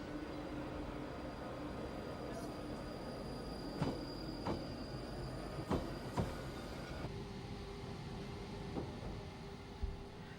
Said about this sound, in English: This train terminates at Mill Hill East.